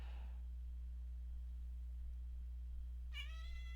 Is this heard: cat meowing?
yes